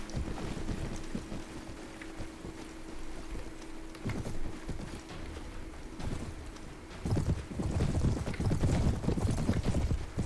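Horses' hooves in the video game Perisno mod, a soft clip-clop rhythm running under wind and water ambience, growing busier and louder near the end, with almost no talk.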